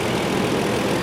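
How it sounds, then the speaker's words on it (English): 2009 Toyota Tacoma 4x4 engine idling, a quiet, steady low rumble with an even hum and no clear knocking, heard close and alone. "So as you can hear, very quiet engine."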